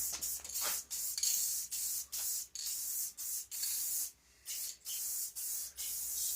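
An aerosol can spraying a base coat onto a junkyard Yamaha Warrior 350 part, sharp hissing bursts repeated about ten times in steady rhythm with brief pauses between, close and loud with no talk.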